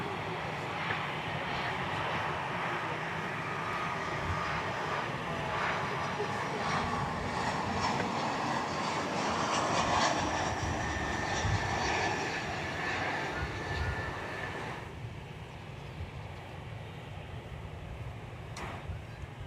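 An airliner lands on runway 18 right at DFW Airport, a steady, broad jet roar holding at moderate distance before it drops off, heard outdoors with no talk.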